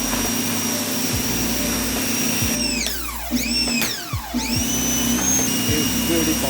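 Ryobi 1600 PSI electric pressure washer running with a steady hiss and whine, its motor pitch dropping and rising again several times as the trigger is pulled and released.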